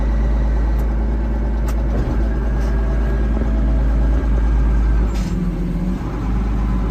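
A Case IH 2594 tractor engine runs steadily in fourth gear while the tractor stays put, a loud continuous low diesel rumble with a brief hiss near the end.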